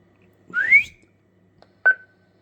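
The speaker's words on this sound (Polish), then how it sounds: "Jak słychać, przemiennik się otwarł." Two short electronic tones from a 2-meter band radio repeater opening: a rising chirp followed after a pause by a brief steady beep, clear against silence.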